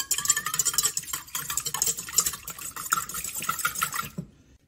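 Eggs whisked by hand in a mixing bowl for biscotti batter, a steady run of quick scraping, clinking strokes that carries on for about four seconds before stopping abruptly.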